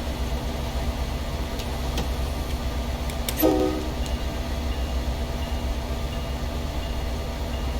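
A short, sharp horn blast from an MBTA commuter train in the Train Sim World video game sounds once over a steady low rumble of the engine and rails.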